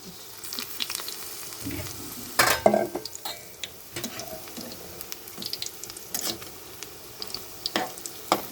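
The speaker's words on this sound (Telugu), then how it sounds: "కరివేపాకుని కాడలతోటే ఇలా మనం వేయాలి" Curry leaves still on their stalks dropped into hot oil for curry leaf fritters (bajji), crackling and bubbling up close, with a sharp burst of spitting midway and scattered clinks and scrapes around the sizzle.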